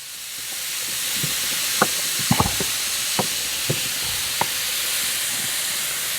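Ingredients sauté in olive oil in a pan for a taco calzone, giving a continuous close hiss and sizzle with a few soft utensil taps, no talking.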